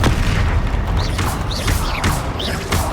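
Confringo blast spells exploding during combat in Hogwarts Legacy, a dense run of loud booming bursts and whooshing magical effects layered over game music and noise, several impacts in quick succession.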